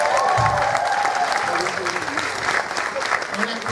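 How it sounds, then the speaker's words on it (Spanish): Audience applause at an urban music festival greeting a rap performer, sustained loud clapping with some crowd murmur and faint tonal sounds underneath, running evenly throughout. "yo quiero un aplauso gigantesco para la siguiente participante."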